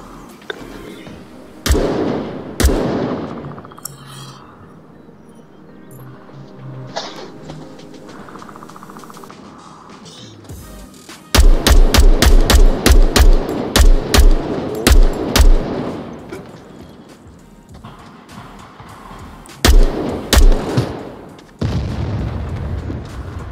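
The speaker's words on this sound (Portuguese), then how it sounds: "Tão dando tiro na gente, eu não sei nem da onde." Gunfire in the VR shooter game Onward, with single loud shots early on and then rapid automatic bursts in the middle and near the end, while players talk between the shots.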